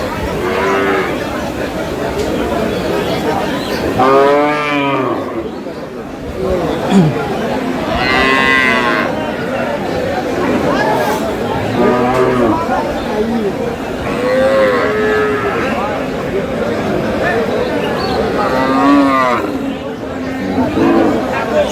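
Cows and calves at a crowded rural cattle market moo loudly and repeatedly, some close and some farther off, over a steady hum of crowd chatter and people talking.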